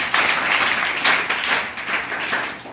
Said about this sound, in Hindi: पहले तो आप अपने लिए ताली बजाओ